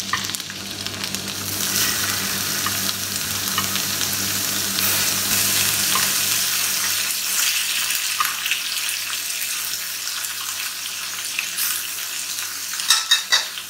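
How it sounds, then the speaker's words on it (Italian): Loud, steady sizzling of octopus frying in a very hot pan, a dense crackling hiss that continues throughout, with a few sharper pops near the end. "La padella è bella calda ed è pronta per accogliere il polpo."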